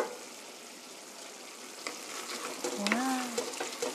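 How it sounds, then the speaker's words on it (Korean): Beef and zucchini stew in a pot, a steady wet sizzle and bubbling close by, rising toward the end with a stirring clink and a brief high squeak over it. "맛있게 바글바글 잘 끓었습니다"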